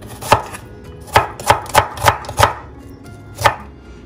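Knife chopping onions on a cutting board, seven sharp distinct chops in an uneven rhythm with brief pauses, close and fairly loud with no voices.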